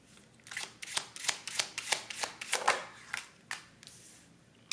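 Tarot cards are shuffled by hand in a steady series of crisp riffling bursts, about a dozen close, sharp flutters repeating at an even rhythm with no talking.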